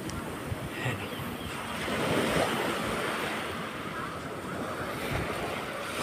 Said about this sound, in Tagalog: Ang ganda ng beach dito.